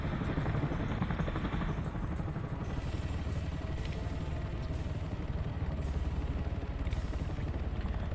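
Helicopter rotors and engine thrum steadily in a military video game, a loud continuous low roar with a choppy pulse, joined by intermittent rattling clatter and no voices over it.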